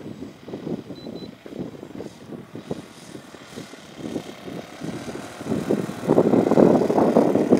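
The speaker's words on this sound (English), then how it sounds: "Got a little 50 4-stroke, 52 4-stroke in it. Little thumper motor." An O.S. FS-52 four-stroke engine drives a SIG Kadet LT-40 RC trainer plane at a dry lake, a thumping propeller drone that pulses irregularly at mid distance, then swells louder and steadier toward the end, no voices.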